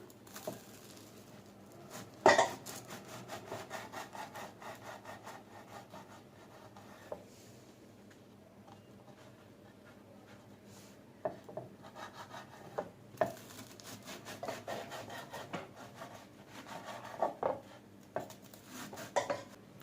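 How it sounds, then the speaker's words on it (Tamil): A knife cuts toasted bread slices into small pieces on a board while making a quick cup pizza, giving soft repeated scraping and tapping with a few sharper knocks and clinks, fairly quiet and close, with no talking. "நாம டோஸ்ட் பண்ணி வச்சிருக்க பிரெட் ஸ்லைஸை இந்த மாதிரி அரேஞ்ச் பண்ணிட்டு சின்ன சின்ன பீஸா கட் பண்ணிக்கலாம்"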